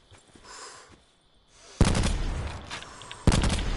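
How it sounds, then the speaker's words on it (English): Video game gunfire from players shooting each other in a battle royale match, with faint distant shots first, then two loud, sharp bursts of rapid fire that ring out close. "Oh, they're shooting at each other."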